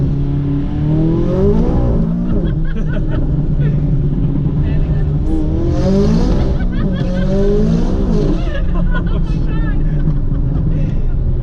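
Tuned McLaren 570S sports car accelerating hard at a race event, its exhaust rising and falling in loud revving sweeps throughout, with people talking excitedly over the engine.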